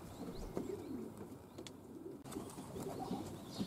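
Young pigeons coo softly outside a loft on their first day out, low throaty calls repeating under steady outdoor background noise.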